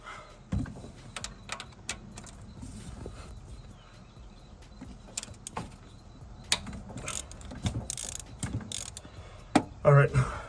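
Ratchet clicking while loosening bolts on an engine during valve spring work, with rapid pawl ticks in short bursts and a few metallic clanks of tools, close and moderately loud in a quiet garage.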